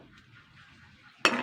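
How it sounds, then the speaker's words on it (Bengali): Egg and sago pudding being stirred in a pot, a soft low scraping at first, then a sudden louder clatter of the spoon against the pot near the end. "ভালো করে নাড়াচাড়া করে নিই"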